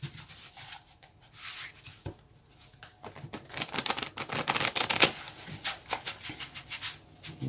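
Rapid papery riffling and soft slaps of tarot cards being shuffled close by, in irregular bursts that build and fade, with no talking.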